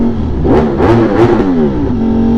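Ducati Streetfighter motorcycle engine revved hard in short bursts, loud and close, with rising and falling engine pitch over a steady idle.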